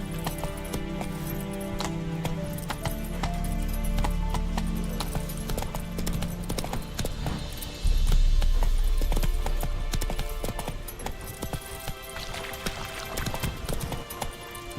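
Roach the horse gallops in The Witcher 3, a steady rhythmic clip-clop of hooves running continuously under a layer of game music and ambience, growing louder about halfway through.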